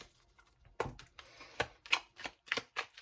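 A tarot deck being shuffled in short, uneven bursts of crisp card riffles and slaps, close and fairly quiet, with pauses between attempts.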